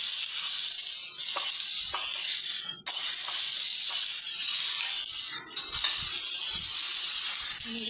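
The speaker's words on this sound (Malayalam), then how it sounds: "വെളുത്തുള്ളി ചതച്ചത് കൂടെ ചേർത്ത് കൊടുക്കണം എന്നിട്ടൊന്ന് നന്നായിട്ടൊന്ന് വഴറ്റുക" Ginger and crushed garlic sizzle in oil in a pan for a tapioca curry, a steady close hiss broken by brief dips and soft stirring scrapes, with no talking.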